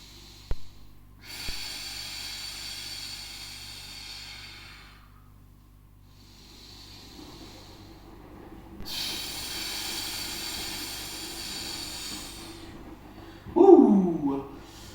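Deep breathing in and out during a home workout, in long breathy hissing stretches with pauses between them, with a short louder burst near the end.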